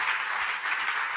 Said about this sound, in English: So a round of applause for Tal, Vladstan.